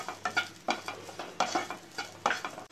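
Grated coconut frying in a pan with cardamom, stirred in repeated scraping strokes over a soft steady sizzle, close and moderately loud with no talk.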